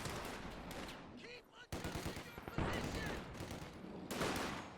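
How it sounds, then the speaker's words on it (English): Sustained machine gun bursts and rifle fire from a Company of Heroes 2 match, dense overlapping shots with a sharp blast near the middle, likely the rifle grenade, and a caster's voice faintly underneath. "I heard a rifle nade on the machine gun"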